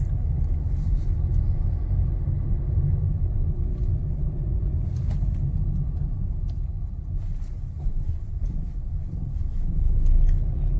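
A Maruti Suzuki Ciaz builds speed from first gear. Inside the cabin its engine makes a steady, low rumble that swells slightly near the end.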